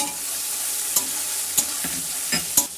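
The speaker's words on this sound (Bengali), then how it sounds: "এরপর এখানে দেবে পেঁয়াজ ভাজা, মানে পেঁয়াজ কুচি, ভাজবে পেঁয়াজটাকে" Steady sizzle of chopped onions frying in a pan, close up, with a few scraping stirs of a spatula at intervals.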